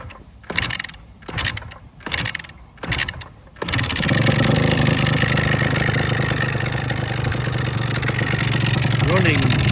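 A Suzuki RGV250M motorcycle turns over in a few rhythmic cranking bursts with no throttle, then catches and settles into a loud, steady two-stroke idle with a rattling dry clutch.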